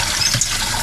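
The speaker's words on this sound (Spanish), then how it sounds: "la otra opción es poner los tomates debajo del chorro del agua" Tap water runs over tomatoes in a kitchen to loosen their skins for peeling, a brief, steady, close rushing of water with no voices.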